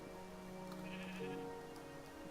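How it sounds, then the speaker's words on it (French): A Minecraft sheep gives a single drawn-out bleat, clear and fairly close against a quiet game background, with no speech. "il y a un mouton qui veut pas me suivre"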